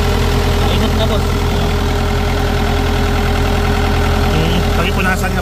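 The engine of a Hitachi EX100 excavator runs under test after a replacement actuator is installed, giving a loud, steady, unbroken drone with a low throbbing pulse that dominates throughout.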